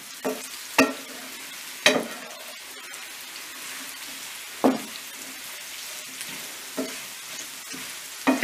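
Chicken and mushrooms sizzle softly in a cast iron pan, broken by a handful of sharp scraping stirs spaced a second or two apart.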